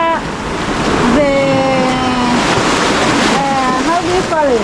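Ocean waves breaking along a rough coast, a steady loud wash of surf and wind buffeting the microphone throughout, with a person's voice faintly mixed in.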